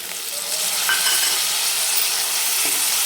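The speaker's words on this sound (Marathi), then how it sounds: "मिक्स करून घेतलं की लगेच त्याच्यामध्ये टाकू एक टोमॅटो" Potato curry sizzles loudly in a pan as a tomato is stirred in, giving a dense, steady frying hiss with light scraping throughout.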